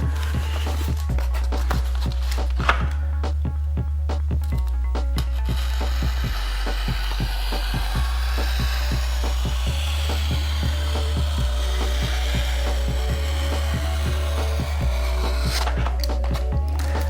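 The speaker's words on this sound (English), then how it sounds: "using our finger as a guide, we're simply going to go ahead and cut across" A hobby knife draws across foam board, cutting a bevel into an FT Waco wing, making a long, continuous scraping rasp. A steady low hum runs underneath throughout.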